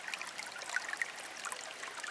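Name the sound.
running water at a desert oasis, Furnace Creek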